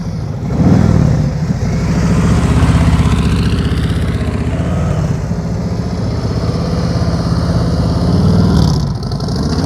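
A motorcycle engine loud and close, held at very low throttle during slow-speed riding practice, a steady rumbling drone that swells slightly near the start and again near the end.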